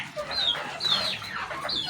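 A hen clucks and calls in short repeated bursts, close and fairly loud, with no talking, while being treated for molting with a syringe dose of gripe water and warm water.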